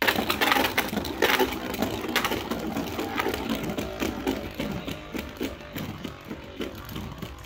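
Beyblade Burst tops rip from launchers and clash in a stadium, a burst of rattling and clicking followed by a fast run of repeated small metallic impacts, close and with no talk.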